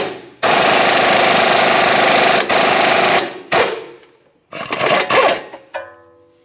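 A powered impact tool spins a 21mm swivel socket on the upper ball joint mounting nut of a 2011-2021 Jeep Grand Cherokee, rattling in one long loud burst and then several shorter ones, close up.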